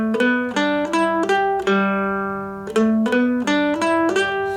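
Mandolin plucking a rhythmic riff on a pentatonic scale, a bouncy pattern of clear single notes with one longer held note in the middle, played close and alone.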